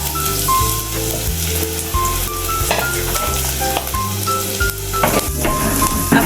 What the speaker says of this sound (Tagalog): After natin igisa guys yung sibuyas, bawang at luya